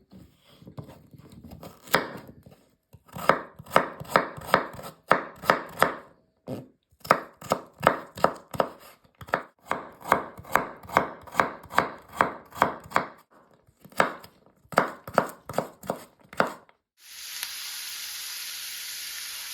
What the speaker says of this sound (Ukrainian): Далі нарізаємо моркву невеличкими шматочками.